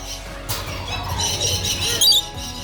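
At an ostrich ranch, birds let out loud, shrill squawks and screeches close by, clustered near the end, over a busy, noisy background.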